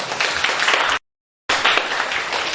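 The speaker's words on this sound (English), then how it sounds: "Give them a big round of applause." A gathering applauds second- and third-place winners with brisk, even clapping that cuts out completely for half a second, then resumes.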